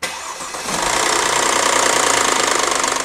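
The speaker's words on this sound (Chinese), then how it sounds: "奔驰车像这种链轮异响的毛病已经不是什么稀奇事了" A Mercedes-Benz ML350 or S350 engine with a worn timing chain sprocket cranks and fires, then settles into a loud, rough idle with a knocking rattle throughout, recorded up close with no voices.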